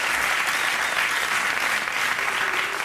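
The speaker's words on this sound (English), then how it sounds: "You're applauding me as if I'm responsible." Studio audience at a late-night talk show breaking into sustained, steady applause that fills the room, loud and even throughout with no talk over it.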